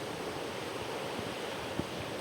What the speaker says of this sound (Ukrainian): Бачимо річку.